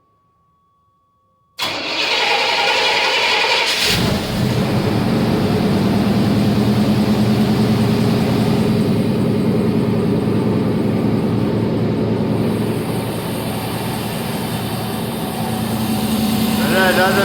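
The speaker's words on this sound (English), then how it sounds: "we're gonna get this thing fired up and see how it cold starts" A 1989 Chevy Suburban engine cold-starts on a 30-degree morning: a brief crank catches into a loud, steady close-up idle that runs on evenly, with a faint voice briefly audible near the start.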